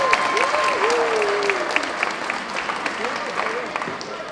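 An audience at a songwriters hall of fame event applauds and cheers, a dense wash of clapping with a voice rising over it at the start, fading gradually toward the end.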